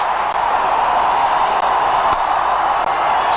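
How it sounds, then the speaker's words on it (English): Dense, loud wash of a cricket stadium crowd cheering and roaring steadily throughout, with a commentator's voice blended into the noise. "Listen to this crowd go crazy"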